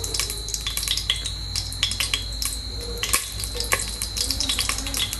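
Green chilies sizzle and crackle in hot oil, giving a continuous frying hiss. Sharp pops and small clatters of a utensil against the pan break through it at close range.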